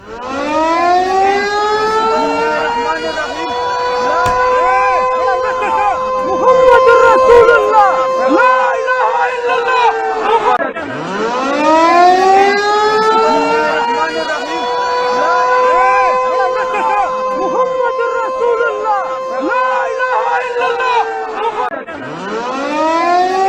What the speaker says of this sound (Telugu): వాస్తవానికి సియాల్కోట్ ప్రాంతంలో ఈ సైరన్ వచ్చిందా లేక ఇతర ప్రాంతాల నుంచి వచ్చిందా అనేది కూడా క్లారిటీ లేదు